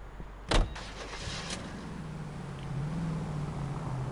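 A car door thumps shut inside the L.A. Noire video game, followed by a faint engine starting and settling into a low, steady idle.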